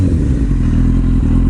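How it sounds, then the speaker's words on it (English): A Triumph motorcycle engine runs close and loud with a deep, throbbing, continuous rumble and slight clatter, steady throughout the short burst, with no voices. "I'll give it a little rev so you can hear the sound."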